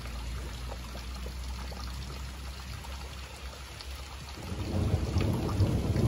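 Thunder from a mountain thunderstorm swells in as a low, distant rumble that grows louder toward the end, over a steady wash of rain.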